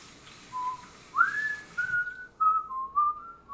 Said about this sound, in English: What was I whistling?